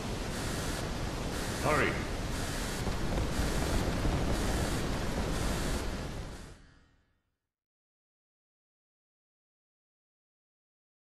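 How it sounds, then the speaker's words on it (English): Seawater rushing in during a scene from the video game The Bouncer: a loud, broadband roaring wash lasts about six seconds, with a brief shout partway through, then fades to silence. "Seawater's rushing in from the explosion."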